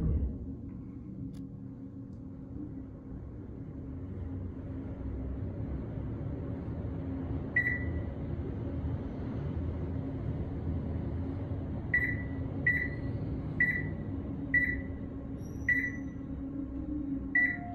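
Otis Series 4 traction high-rise elevator running up at 800 feet per minute, a steady low hum and rumble of the moving car with a string of short floor-passing beeps in the second half.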